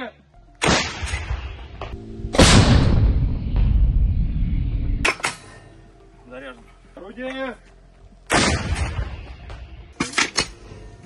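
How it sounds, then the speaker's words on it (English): A 152mm Msta-B artillery gun fires in combat, sharp heavy blasts that boom out and roll on with long echoing tails, several separate reports spread across the span, with brief voices heard in between. "152mm Emsta-B gun fired by Tula airborne artillery destroyed a position of the Ukrainian armed forces in the Sumy region."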